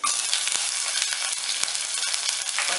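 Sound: green chillies sizzling in hot oil

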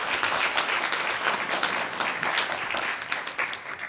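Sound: audience applause for signing athlete

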